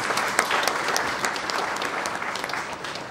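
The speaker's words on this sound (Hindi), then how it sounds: "जोरदार ताली बजा के" An audience at a film announcement press conference claps steadily and evenly throughout, a moderately distant, dense patter of many hands with no voices over it.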